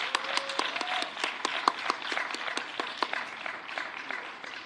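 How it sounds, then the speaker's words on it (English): A small audience at a scholarship finalist announcement claps for several seconds, a modest, fairly quiet patter of hand claps with a few sharper individual claps standing out. "Please join with me in applauding these 6 finalists"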